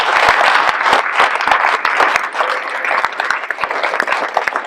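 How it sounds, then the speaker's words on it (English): Audience applause at the Greene County Career Center dedication ceremony, with a continuous wash of clapping across the room and sharp individual claps standing out close by, sustained throughout with no talking. "Please join me in an applause."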